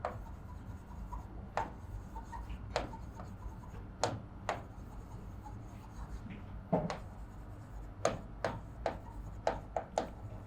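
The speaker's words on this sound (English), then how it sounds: "Post that we are going to write notice, the date and our subject as in our topic" Pen or pencil writing by hand on paper, a sequence of short scratchy strokes and taps, close and fairly quiet, irregularly spaced with clusters near the end, over a faint steady room hum.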